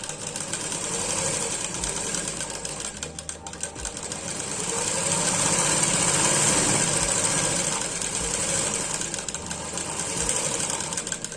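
A sewing machine stitches fabric close up, whirring in a fast steady mechanical rhythm that briefly slows and then speeds up again, with no voices.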